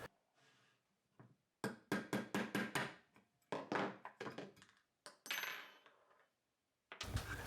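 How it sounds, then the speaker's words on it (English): A small starter punch is tapped against a rivet to drive out the swivel on an M-LOK free-float handguard: a series of sharp metallic taps in quick bursts, close and fairly loud, with short pauses between groups. "we either have to drill or punch out the rivet that secures the swivel"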